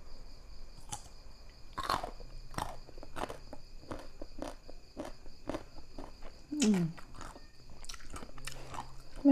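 Crunchy Thai pickled mango being bitten and chewed close up, a series of sharp crisp crunches spread through the stretch over a faint steady background hum, with no talking.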